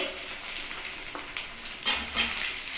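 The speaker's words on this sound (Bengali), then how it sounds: "সবজি আর একটু করে আমি ডিপ ফ্রাই করে নিচ্ছি" Potato and carrot pieces deep frying in a pan with a steady oily sizzle, sharpened by a few louder bursts of crackle and stirring near the end.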